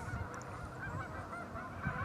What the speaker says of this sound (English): So you might be able to hear the whole symphony of geese all around me